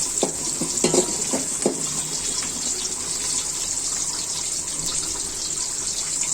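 Onion and garlic frying slowly in a pan on low heat give a steady, bright hiss, with a few clattering stirs near the start before the sizzle carries on alone.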